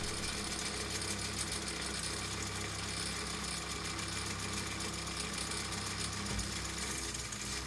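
A Philips EL 3514 tape recorder running with its motor and transport whirring steadily, a faint continuous mechanical hum with fine rhythmic texture and no talk.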